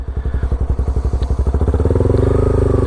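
A motorcycle creeps along at low speed with the clutch slipped in the friction zone, its engine thudding in a steady, close pulse that quickens and smooths into a continuous drone toward the end.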